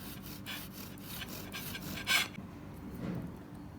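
A knife saws through a Snickers cake in a series of close, rhythmic rasping strokes, with one louder scrape near the end and no talking.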